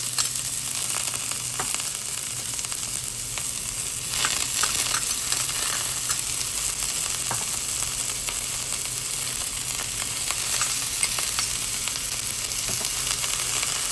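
Onion and peppers sautéing in a pan, a continuous, fairly loud sizzle with scattered crackles and light stirring clicks throughout.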